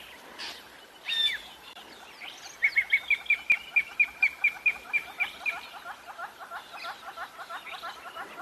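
A drongo mimics a Wahlberg's eagle on a sunset safari, giving a run of about a dozen evenly spaced, high, clear whistled notes after a few scattered calls, moderately near, with other soft bird chatter behind.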